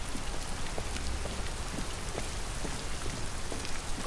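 Steady rain falling and pattering on surfaces in the video game Detroit: Become Human, a dense continuous wash of drops with scattered sharper taps, alone with no speech.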